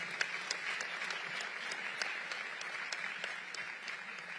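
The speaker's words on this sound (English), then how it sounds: "Give the students a round of applause." Audience applause for students at a panel event on midterm elections and Black America, a sparse room of clappers with distinct individual claps standing out over a soft steady bed, moderately quiet.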